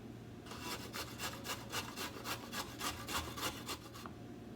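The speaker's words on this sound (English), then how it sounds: "The carrot you want to shred, and since I only have one carrot, I'm just going to use the little hand grater" A single carrot shredded on the large holes of a small hand grater, giving a steady run of about a dozen rhythmic rasping strokes, close and clear with no talking.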